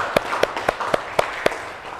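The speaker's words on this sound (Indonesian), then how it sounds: "Sekali lagi tepuk tangan untuk Bapak Anies." Six sharp, evenly spaced hand claps ring out at a steady slow rhythm, close and fairly loud, as an audience at a school education gathering in Solo applauds Bapak Anies.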